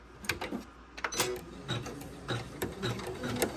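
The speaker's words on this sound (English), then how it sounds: "We're going to start our machine back up again." A Janome 500e embroidery machine stitches a satin border on a Christmas tree ornament, giving a close, steady run of rapid mechanical ticks and clatter with uneven bursts of needle strikes.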